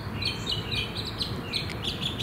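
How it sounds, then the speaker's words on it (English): Wild birds chirp and call busily outdoors, with many small high tweets layered over steady low rumbling background noise, continuous and fairly loud with no talking. "the birds are going nuts"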